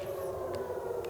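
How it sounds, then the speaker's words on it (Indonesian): An air raid siren wailing over Tel Aviv during a night attack, a steady, sustained droning tone, loud and continuous with faint higher overtones and no talk. "Sirene pun meraung memenuhi udara ibu kota"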